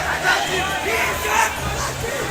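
A large crowd of devotees fills an indoor darshan queue hall at a Mumbai Ganapati pandal, a dense, echoing hum of many voices murmuring and calling together.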